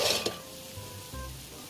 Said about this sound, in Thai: ครับสุดท้ายก็ ทอด ไข่ผงคูกงานนะครับ ก็เป็นกระทะสุดท้ายแล้วครับ